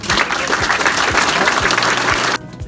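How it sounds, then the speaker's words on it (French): Lively crowd applause for a candidate at an Armentières campaign support evening, many people clapping loudly and densely for about two seconds before it cuts off abruptly into near quiet. "je vous demande de l'applaudir d'ailleurs"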